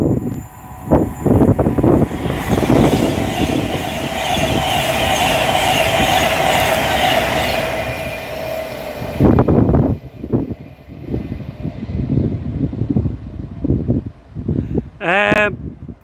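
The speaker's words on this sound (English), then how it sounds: "Pendolino." A Pendolino train passes close by on rail track, a loud sustained roar and rumble lasting about eight seconds before fading, with wheel squeal near the end and talk heard throughout.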